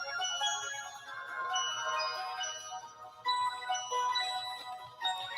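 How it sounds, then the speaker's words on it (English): In Sea of Stars, bright chiming bell tones ring out in a melodic run of tinkling notes, clear and alone with no talk. "It's a bell."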